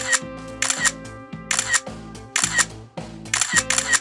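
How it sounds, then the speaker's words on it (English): Repeated camera shutter clicks, several bursts in steady rhythm, each a bright crisp snap over a low tonal backing, close and fairly loud. "maybe we're going to take some cool selfies and post them on a few social media sites, like this"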